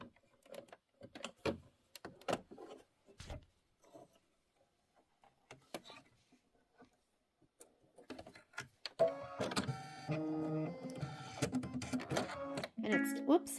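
An embroidery machine stitches decorative leaf outlines in green thread for a mini quilt block, its rapid mechanical whirring and clatter starting near the end after a stretch of quieter clicks and handling under a talking voice.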